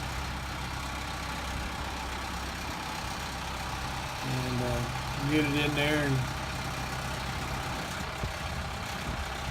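John Deere 6600 tractor engine idling and rumbling steadily as it drives into a barn, someone talking briefly over the continuous low drone.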